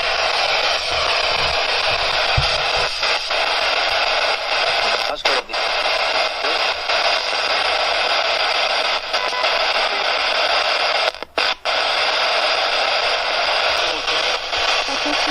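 Loud, continuous ghost box radio static sweeps across stations with brief choppy dropouts and fragments, a harsh hiss that barely lets up.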